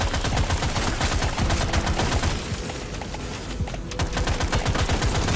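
Rapid, continuous gunfire and crackling weapon bursts from a fire weapon cutting down enemies in the video game Deep Rock Galactic Survivor, loud and dense throughout with a brief dip in the middle.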